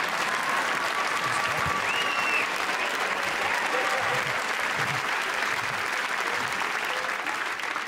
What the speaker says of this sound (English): He's clapping.